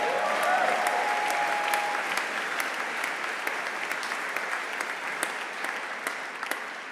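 Audience clapping at a synagogue gathering with a choir, a dense sustained round of applause from a crowd, a brief tonal sound near the start, fading slightly toward the end.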